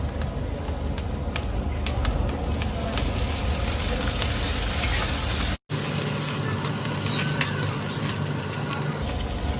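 Green chillies and curry leaves sizzling and frying in hot oil in a pan in a restaurant kitchen, a steady crackling hiss with occasional stirring and a momentary break midway.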